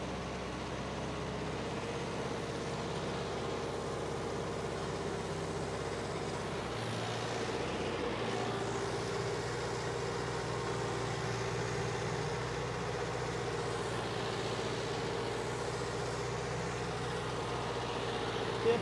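A Mahindra Arjun Ultra 1 605 DI diesel tractor engine runs steadily at about 1800–2000 rpm, a continuous low droning rumble with a brief dip partway through, close and fairly loud with no talk.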